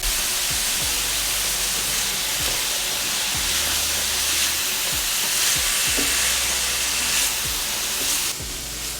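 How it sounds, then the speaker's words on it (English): Vegetables sauté in a pan for homemade chicken and escarole soup, a continuous close sizzle and hiss broken by regular soft knocks and scrapes of stirring. "I am sauteing the vegetables"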